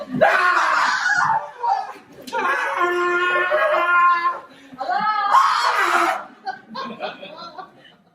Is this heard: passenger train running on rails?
no